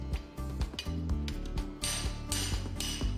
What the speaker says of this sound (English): Tap the disc nut handle with a hammer to tighten the disc nut completely.